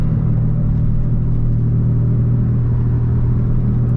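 A Mitsubishi Eclipse engine pulls hard while accelerating up toward fifth gear, a loud, steady, close rumbling drone with no break or voices over it.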